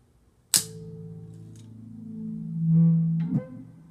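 Electric guitar played through chorus and overdrive effects on the neck pickup, one sharp attack followed by a muffled, sustained low note that swells and fades, heard alone.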